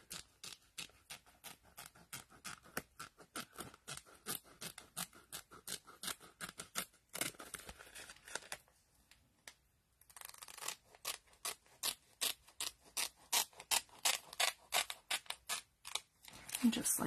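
Scissors cut along the side of a paper file folder in a long run of quick, rhythmic snips, pausing briefly partway before the close, crisp cutting resumes.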